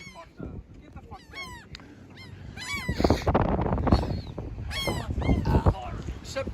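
Geese honk repeatedly outdoors, loud nasal calls in clusters close by, mixed with scuffling, wing flaps and people's voices.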